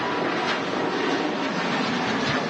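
A Scandinavian Connect airliner, an Irish-registered aircraft bound for Oslo, departs Manchester Airport on a gusty day, its engine roar a loud, steady broadband rush with wind noise.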